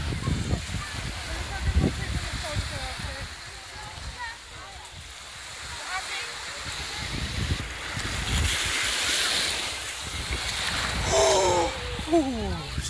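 Sea waves washing onto an Isle of Wight beach, a continuous broad surf roar with gusting wind buffeting the microphone, while people talk nearby.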